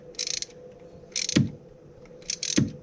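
Hand threading of a brass oil line fitting into a steel engine block, heard as short bursts of dry ratcheting clicks with soft metallic knocks between them, close and fairly quiet.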